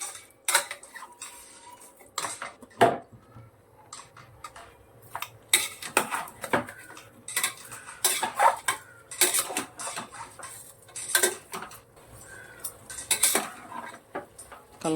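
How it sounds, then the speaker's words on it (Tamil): A spoon stirs mutton with salt in a metal pot, giving irregular scraping clinks and taps that come in quick clusters with short pauses, close and fairly crisp, with no talk. "கொஞ்சோண்டு போட்டு ஒரு கலக்கலாம்."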